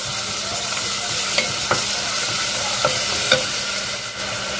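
Garlic frying in a pan with panch phoron and onion, a steady sizzle running throughout while a utensil stirs and scrapes, with a few sharp clicks against the pan.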